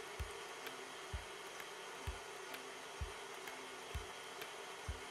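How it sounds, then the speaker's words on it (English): An electric mixer whirs steadily while beating egg whites for chocolate macarons, a constant faint motor hum with soft periodic thumps recurring about once a second. "We're beating the egg white."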